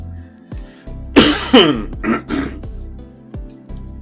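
A man clears his throat and coughs in a quiet room, several short harsh bursts spread over a few seconds, close and alone.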